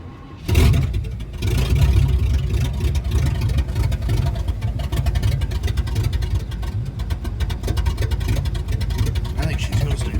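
A Chevrolet Caprice Catalina V8 with no exhaust starts up and runs loud and close, a steady rough low rumble with an open, unmuffled roar, and faint voices underneath.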